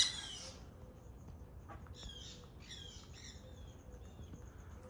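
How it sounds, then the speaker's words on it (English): Parrots give a few short squawks and chirps at some distance during a quiet morning outdoors, faint scattered calls over a low background hush. "And now there's parrots"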